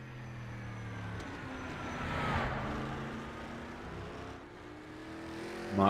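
A historic race car engine on the Isle of Man time trial course, near the outskirts of Douglas, hums at moderate distance with wavering pitch, then ends with a short, sharp throttle blip.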